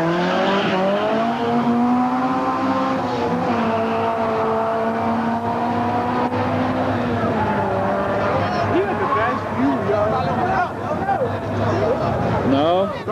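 Turbocharged street-racing car at a Hunts Point, Bronx street race in summer 2001, its engine droning loud and steady with shifting pitch, surging near the end over a busy background murmur.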